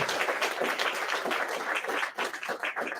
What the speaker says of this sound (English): Let's give our parents a nice round of applause.